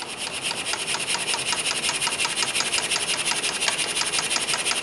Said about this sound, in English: Now this engine will run right along.